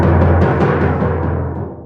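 One hard drum hit, overplayed beyond what the head can take, with a harsh, biting attack rings out and slowly decays over a couple of seconds, loud and close.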